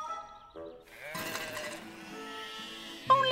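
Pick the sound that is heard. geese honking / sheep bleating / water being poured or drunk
sheep bleating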